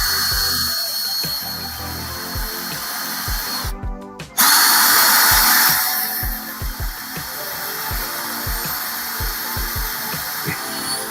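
A power drill bores a pilot hole for a screw, using the drill bit supplied with the screws. Loud, close whirring comes in repeated bursts, with one sharp high-speed surge partway through.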